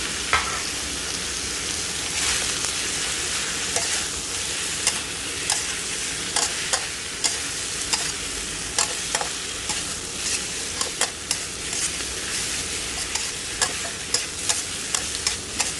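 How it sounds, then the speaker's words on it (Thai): Vietnamese pork sausage is stir-fried with holy basil over medium heat, a spatula scraping and tapping the pan again and again over a constant loud sizzle, close up and with no talking. "เราก็จะใส่หมูยอลงไป แล้วก็พัดต่อค่ะ ผัดมาเรื่อยๆนะคะ"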